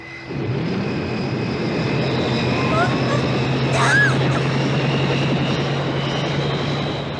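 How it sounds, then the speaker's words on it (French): Propellers of a cartoon flying machine spin up and take off with a steady droning engine hum that rises slightly and holds, while a voice speaks briefly and a small whistling squeak rises midway. "Mets les hélices en route"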